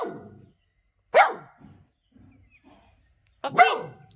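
A dog lets out two sharp barks, about two seconds apart, close and fairly loud, with quiet gaps between them.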